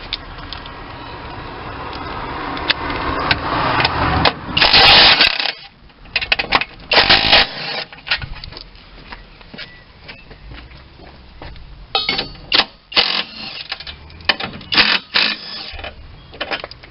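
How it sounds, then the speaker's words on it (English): Impact driver removing 14 mm engine mount bolts on a Volvo D5 engine during EGR valve work, giving bursts of rapid rattling hammering with pauses between them, loud and close. "We've just got two 14 mil bolts on either side of that, which I'll just whiz off with an impact driver."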